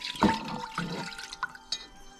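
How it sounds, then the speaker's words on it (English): Water poured into a stainless steel pot holding an upside-down bowl, while making vegan pork buns; a brief splashing gush near the start, then lighter trickles and drips, close and moderately loud. "Add water."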